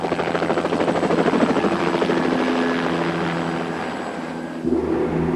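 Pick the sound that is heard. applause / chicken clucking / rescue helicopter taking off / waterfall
rescue helicopter taking off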